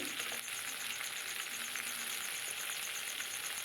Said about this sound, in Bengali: বেগুনও খুব বেশি একটা ভাজার দরকার নেই একটু লালচে লালচে হলে হয়ে যাবে